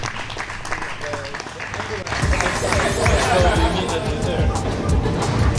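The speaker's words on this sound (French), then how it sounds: "On les applaudit bien fort." An audience at a televised bowling gala match applauds steadily and close by, with a dense wash of clapping and crowd chatter that swells partway through.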